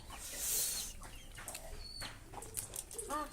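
Farmyard chickens cluck nearby in a village setting, with short scattered calls and some wing flapping, fairly faint against outdoor background noise.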